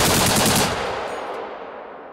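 A ZU anti-aircraft gun fires a loud, dense burst of rapid shots that cuts off after about half a second, leaving a long rumbling echo that fades away.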